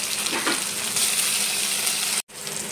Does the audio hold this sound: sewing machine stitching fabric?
no